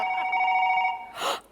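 A telephone rings close by with a steady electronic trill lasting about a second, followed by a brief breathy burst.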